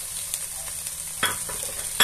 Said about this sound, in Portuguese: Vamos deixar refogando aqui um pouquinho.